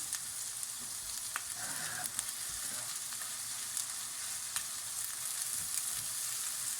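Steady sizzle of vegan mapo tofu frying in a pan over high heat, with intermittent stirring clicks and scrapes, close and moderately quiet, no talking.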